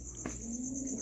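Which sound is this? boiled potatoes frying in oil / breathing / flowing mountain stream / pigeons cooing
pigeons cooing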